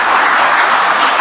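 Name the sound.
audience applause at Megawati Sukarnoputri's speech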